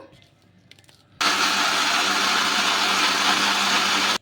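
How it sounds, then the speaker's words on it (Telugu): A mixer grinder grinds green gram and sago with water into batter. Faint handling noises come first, then the motor switches on abruptly into a loud, continuous whirring roar that lasts about three seconds. "నీళ్ళు అయితే వేసుకొని మిక్సీ అయితే పట్టేసుకుందాం"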